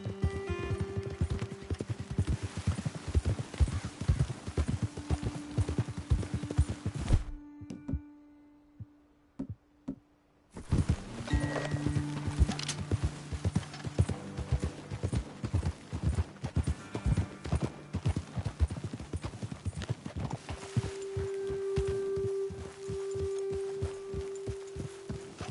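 Horse hooves clip-clop steadily at a riding pace in Red Dead Redemption 2, a continuous rhythmic patter with a brief quiet pause partway through, then resuming; no talk.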